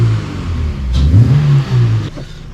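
A Toyota MR2 engine, fresh from restoration with a new gearbox, idles and then takes a quick throttle blip that rises and falls. The engine sound is close, loud and heard alone without voices.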